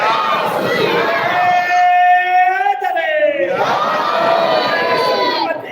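A large crowd at a religious sermon gathering shouts the Islamic slogans Nara-e-Takbeer and Nara-e-Risalat together in loud unison, then falls back into sustained roaring cheers and yelling.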